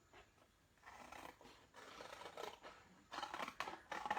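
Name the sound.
scissors cutting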